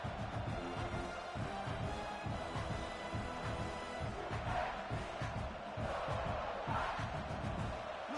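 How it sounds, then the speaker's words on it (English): Dense roar of a large college football stadium crowd at LSU vs. South Carolina, sustained cheering and shouting with swelling surges, heard from within the stands. "Listen to the crowd energy here in the early going."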